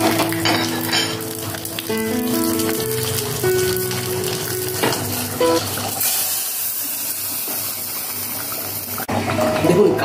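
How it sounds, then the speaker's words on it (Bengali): Whole spices, including garam masala, black pepper, dried red chillies, bay leaves and cumin seeds, hit hot oil and sizzle loudly. A steady crackling fry runs throughout, with tonal sounds layered over the first half. "প্রথমে গরম মশলা দিলাম, গোলমরিচ, শুকনো লঙ্কা, তেজপাতা, লাস্টে জিরেটাকে দিয়ে দিই।"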